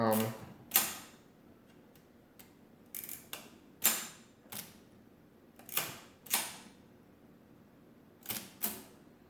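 A Comptometer Model WM mechanical calculating machine being worked by hand after a repair, giving sharp separate clacks and snaps in an irregular rhythm, close and fairly loud against a quiet room.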